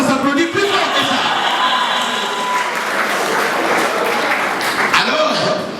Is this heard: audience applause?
yes